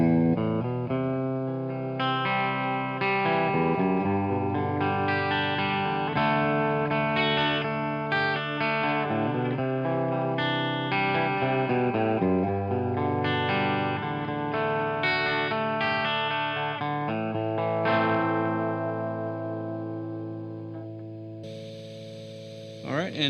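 Electric guitar played through a Marshall JCM800 2203x amp on the high gain input, rolling from a clean tone into mid-level distortion, a continuous loud run of chords and riffs with no talking.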